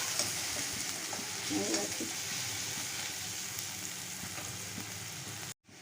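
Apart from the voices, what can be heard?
onion and garlic frying in a pan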